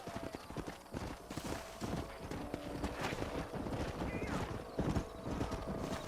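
Hooves clip-clop steadily as horses trot in Red Dead Redemption, with a horse whinnying amid other game sounds and voices speaking over it.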